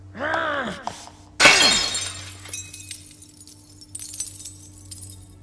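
A mirror smashes in an audio drama effect: a loud crash of breaking glass followed by shards tinkling and scattering, over a low steady hum with eerie whooshing tones before it.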